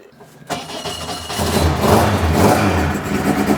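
A classic racing car engine with a lightened clutch and flywheel fires up and revs hard, a loud, close roar that climbs quickly and stays high and aggressive.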